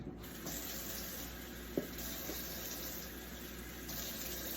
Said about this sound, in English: And then you add the water.